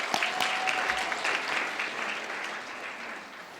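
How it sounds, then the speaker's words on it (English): An audience at a debutante ball gives a steady round of applause, dense continuous clapping from a large crowd at moderate distance, fading slightly toward the end. "Please join me in a round of applause for the past presidents."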